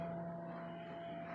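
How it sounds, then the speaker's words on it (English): Steady low mechanical hum of a fan running outdoors, with a constant drone and faint whir, continuous and even throughout. "that's the fan on the outside"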